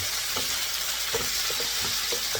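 Ginger and garlic stir-fried in a pan: a steady broadband sizzle with a few soft clinks and scrapes of the spatula against the pan, close and moderately loud, with no talking.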